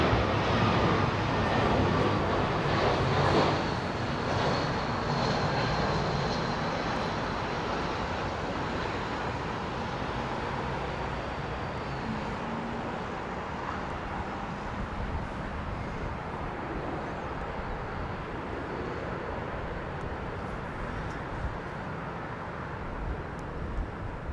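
An Airbus Beluga XL, a widened A330 freighter, lands at Heathrow Airport: a steady, broad roar of jet engines and rushing air fills the whole stretch, loud and close, easing slightly over time with no talking.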